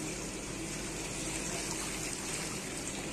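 Cold water pours steadily over boiled noodles in a strainer, a continuous close splashing gush with no talking.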